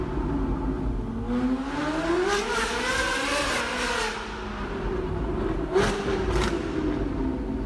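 A car engine with its motor mounted at the rear hums while driving through a city, its pitch rising and falling as it accelerates and eases off, moderately close and steady.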